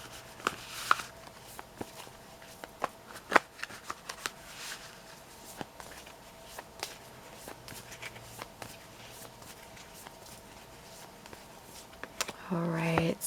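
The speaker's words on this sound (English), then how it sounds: "I always like to give a nice good shuffle" Tarot cards are shuffled by hand in soft, quiet riffles and taps, with a brief louder burst of handling near the end.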